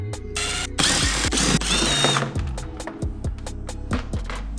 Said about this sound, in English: I'm just gonna unscrew all these screws on top